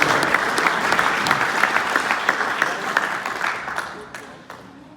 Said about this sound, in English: Big round of applause, friends.